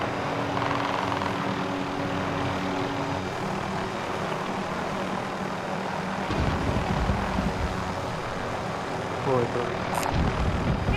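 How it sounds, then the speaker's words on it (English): A helicopter in the Warzone video game thrums overhead with a loud, steady rotor and engine drone that cuts out abruptly partway through, mixed with other game sounds. "Here's the helicopter."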